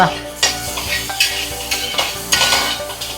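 Chopped spinach leaves tossed into a simmering prawn masala in a pan, with a steady sizzle and repeated scraping, clinking stirs of a utensil against the pan, fairly close and loud.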